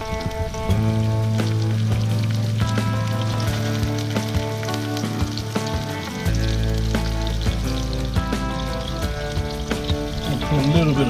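A second mulloway fillet frying in warm oil, continuous close sizzling and popping that swells as it goes in, with steady crackle persisting over the whole stretch and a low background hum.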